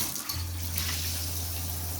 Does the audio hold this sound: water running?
yes